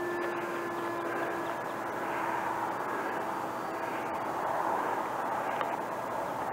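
A Bixler 2 radio-controlled model airplane with a 59-inch wing and flaps flies on its maiden flight at a model airfield, giving a steady motor drone with a faint tonal whine that swells and fades slightly against light wind.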